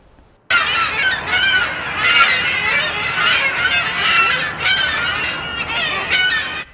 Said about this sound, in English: Seagulls have invaded the eastern edge of campus near the Living Learning Center and Old Main Hill